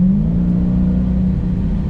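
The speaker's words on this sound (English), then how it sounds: "Yeah, the exhaust sounds nice. You hear that supercharger kick in a little bit." A supercharged Dodge Charger Hellcat engine revs with a steady, deep exhaust rumble and a low droning tone held close and loud throughout, with no voices.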